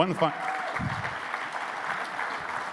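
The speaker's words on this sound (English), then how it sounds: "One final round of applause" Closing applause for a talk at an industry conference: a full room clapping steadily and evenly, moderately distant, following a brief spoken word at the start.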